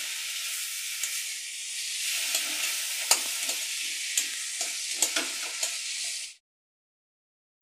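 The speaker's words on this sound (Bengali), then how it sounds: "দিয়ে মশলার সঙ্গে আমি ভালো করে মাথাটাকে মিশিয়ে নেব" Fish head fries in a pan with turmeric, spices and green chillies, giving a loud steady sizzle. A spoon scrapes and clacks against the pan in irregular strokes, then the sound cuts off abruptly into silence.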